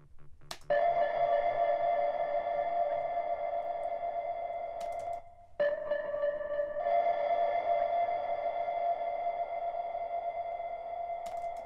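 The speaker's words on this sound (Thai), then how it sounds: "เสียงแบบเหมือนกับห่างรีเวิร์บแล้วก็แบบเอามาเร่งแอทแทคมันเพื่อให้มันได้ความฮิตตรงนั้น" A synthesized sound-design effect for a song, a reverb-soaked tone with a sped-up attack, rings as a steady sustained harmonic drone, briefly cutting out midway before resuming, with no talking.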